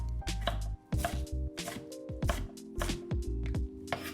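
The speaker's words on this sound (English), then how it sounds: "Chop the onion, carrot, and green leaves into small pieces" Onion, carrot and green leaves chopped into small pieces with a knife on a board, a close run of crisp, irregular chops and taps, about a dozen strikes alone without talk.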